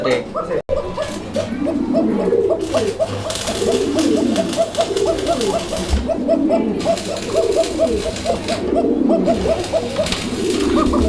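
Many Koka pigeons cooing in repeated soft, rolling calls, overlapping in a steady rhythm close by, with occasional voices in the background.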